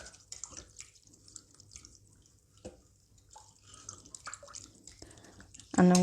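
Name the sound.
stirring beef in sauce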